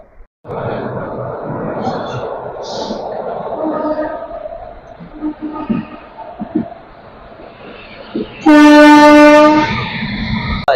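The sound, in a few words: Amrit Bharat Express train running, Shalimar to Charlapalli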